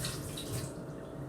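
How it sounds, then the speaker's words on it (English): Water pours out of an overturned half-full cup in a steady, continuous splashing rush lasting the whole moment, close and fairly loud with no talking. "all the water is going to pour out"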